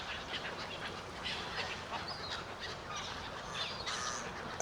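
A flock of dark-plumaged, orange-beaked geese calls while two people feed them, overlapping honks and quacks at a moderate distance, faint and continuous over outdoor ambience.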